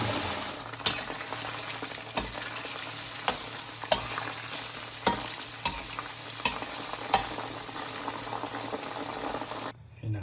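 June beetles deep-fry in bubbling oil with a constant close sizzle and boil, punctuated by regular clicks of a utensil stirring the pan.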